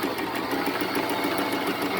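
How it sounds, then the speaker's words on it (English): A Singer Promise sewing machine winding a bobbin, its motor whirring at a steady, even speed with a fast rhythmic pulse, close and continuous throughout with no talking. "So now, I'm going to hold on to this and press the pedal."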